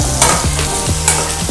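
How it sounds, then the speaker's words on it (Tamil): Paneer dosa filling is stirred and sautéed in oil in a pan: steady close sizzling broken by regular scraping strokes of the spoon, roughly three or four to the second. "நல்லா வதக்குங்க."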